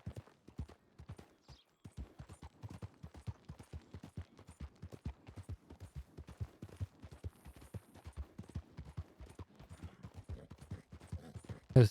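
A horse galloping fast in the video game Red Dead Redemption 2, with rapid rhythmic hoofbeats that carry on steadily at moderate volume and end in a brief louder sound.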